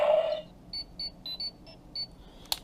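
A Power Rangers Legendary Ranger Key toy gives a quick series of short, high electronic chirps and beeps at close range, ending in a sharp click.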